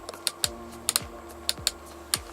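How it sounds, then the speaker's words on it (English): Cruise control and speed limiter switch in a 2017 Renault Fluence clicking several times in an uneven rhythm, sharp close taps heard faintly over a quiet cabin. "this switch right here. It is actually the speed limiter as well as the cruise control switch,"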